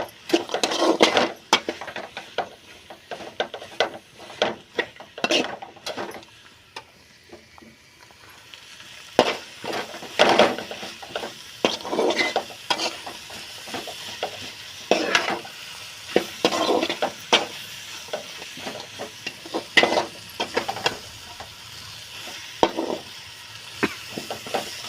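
Spice powder for kurma frying in oil, a steady sizzle broken by frequent scraping and stirring strokes of a spoon against the pan, close and fairly loud throughout.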